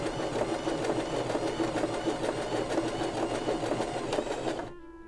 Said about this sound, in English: And what that's doing is it is putting a serge on your fabric to seal your edge.